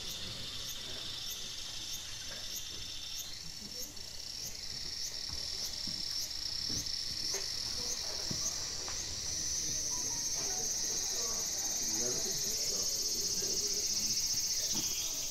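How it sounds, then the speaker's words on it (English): Cicada recordings play from many phones at once at a noise music show, a thin, steady, buzzing insect drone with a pulsing trill that shifts in pitch partway through, plus scattered faint clicks and room noise. "It's supposed to be an interactive cicada experience."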